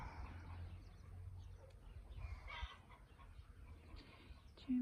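Chickens in a spring garden give a few quiet, low clucks and murmurs amid faint outdoor ambience, soft and brief with no speech.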